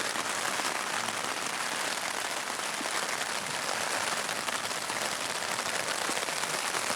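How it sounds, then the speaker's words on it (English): Heavy pouring rain in the Alaskan wilderness hisses in a dense, unbroken wash of drops drumming on nearby surfaces, loud and steady throughout with no talking. "Sitting in the pouring rain"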